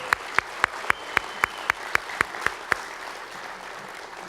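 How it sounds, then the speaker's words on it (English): Evenly spaced sharp claps ring out one after another in a slow, steady rhythm at a GED graduation ceremony, fairly faint over a quiet room, with no voices. "let's have a round of applause for the folks that are here today"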